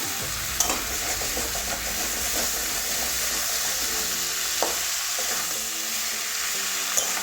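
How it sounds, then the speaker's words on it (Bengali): Katla fish head, pui shak, potato and pumpkin sauté together in a pan with a loud, steady sizzle, punctuated by a few sharp clinks and scrapes from stirring. "দু মিনিট এভাবে কষিয়ে নেব"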